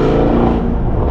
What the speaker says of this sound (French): Le bruit qu'elle fait la voiture, c'est trop.